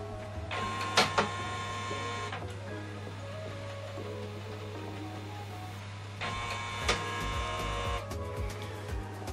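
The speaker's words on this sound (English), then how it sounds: "So now this printer is switched off itself and it will turn itself back on." An HP OfficeJet Pro 9125e inkjet printer shuts itself off and powers back on, with mechanical whirring, clicks and carriage movements in two bursts over a steady low hum, close and fairly quiet.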